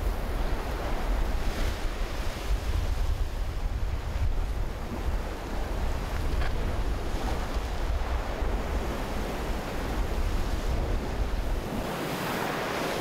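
Strong winter wind and crashing waves batter the coast of Gageodo island, a dense, continuous roar of surf and gusts buffeting the microphone, loud and steady with no voices.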